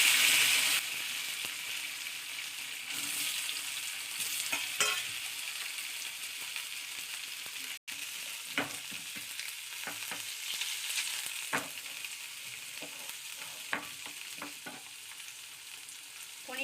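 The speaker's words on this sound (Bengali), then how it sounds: "তেলটা গরম হয়ে গেছে, এবার আমি এতে পনিরটা দিয়ে দিলাম।" Paneer cubes sizzle in hot oil in a pan, a steady fizzing crackle with occasional sharper pops and stirring scrapes, fairly soft and close with no talking.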